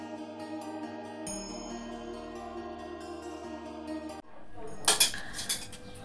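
Dishes and cutlery clink as a mother serves rice for a Bengali home lunch of mung dal and chorchori. Background music plays at first, then a few distinct ringing clatters of plates and utensils stand out near the end, with no talk.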